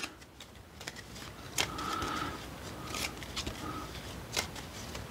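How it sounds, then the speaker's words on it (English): Metro X board game cards shuffled by hand, a soft papery riffling and rustling with several sharper snaps, close up and fairly quiet, no talking. "We're going to give them a good shuffle again."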